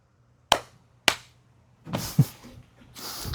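Two sharp single hand claps ring out alone, half a second apart, followed by louder rustling, a thump and handling noise nearby.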